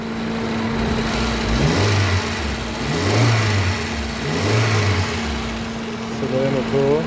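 A Pride car engine, freshly repaired and reassembled, runs and revs in a few swelling bursts close by, with a person speaking over the engine.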